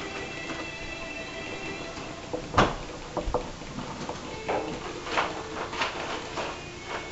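Kitchen drawers and cupboards rattle and knock during a search for a pastry brush, with a sharp clack near the middle and further scattered thuds and clinks of utensils close by, no talking.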